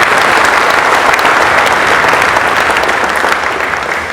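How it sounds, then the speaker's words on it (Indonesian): An audience claps continuously and loudly at a corporate family gathering, a dense, sustained round of applause in an indoor hall that tapers slightly toward the end. "Dengan tepuk tangan untuk tim direksi yang luar biasa."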